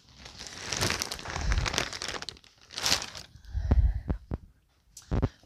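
Plastic packaging crinkling and crackling around a big pillow, in several bursts of crisp rustling with short pauses between handlings, fairly close and moderately quiet.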